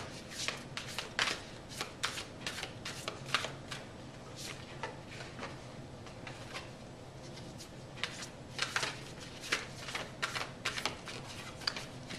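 Tarot cards being shuffled by hand in repeated quick riffling bursts, close and crisp, with brief pauses between runs and no voices.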